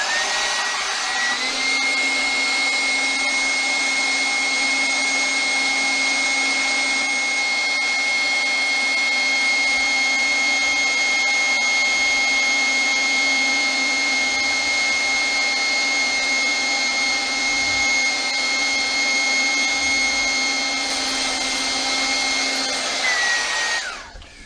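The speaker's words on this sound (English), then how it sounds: "Repurposing an old airbed inflator to do the job of a vacuum cleaner." An old airbed inflator repurposed as a vacuum cleaner runs for about twenty seconds, a loud steady motor whine with a constant high pitch that starts abruptly and cuts off at the end.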